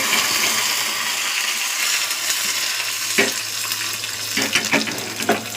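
Dried red chillies, fennel and a pinch of asafoetida fry in hot oil with a steady, broadband crackle and hiss, joined by a few sharper spatters and stirring scrapes toward the end.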